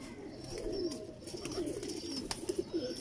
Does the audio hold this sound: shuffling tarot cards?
no